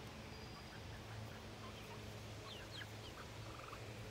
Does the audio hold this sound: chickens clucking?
yes